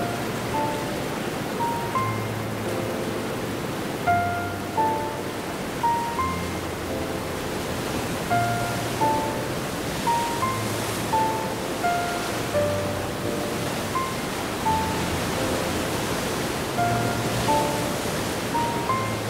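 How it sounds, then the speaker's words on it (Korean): Large and small waterfalls flow through forest valleys after a six-month dry season, making a constant, dense rushing roar. Faint tonal notes recur above it at a slow, regular pace. "골짜기마다 크고 작은 폭포들이 제 길을 따라 생명을 깨우고"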